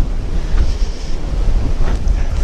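Loud, gusting wind buffets Comica wireless microphones outdoors on a motorcycle trip, a continuous low rumbling roar with no voices.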